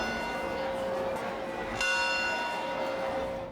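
A church bell rings in St. Mark's Square, Italy, with a sustained, ringing tone that swells as a second strike lands midway, clear and fairly close, with no talking.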